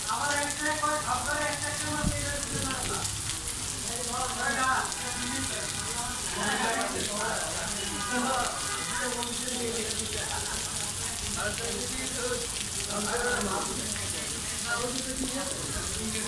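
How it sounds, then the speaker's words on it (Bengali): Heavy monsoon rain pours onto surfaces during a spell of flooding, a dense, steady hiss and patter that stays loud and even throughout, with muffled voice-like tones running underneath. "বৃষ্টিতে ভিজেই বৃষ্টির দৃশ্য আমি ধারণ করলাম"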